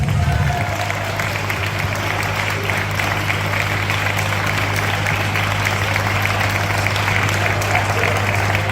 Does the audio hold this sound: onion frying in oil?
no